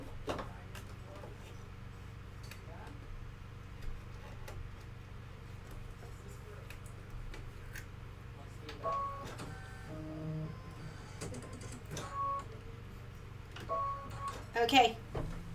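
A sewing machine runs quietly, stitching placement lines for ribbon with gray thread on a Christmas cup-of-cheer sewing project. It gives a soft, steady mechanical hum with light ticking, and some louder clicks near the end.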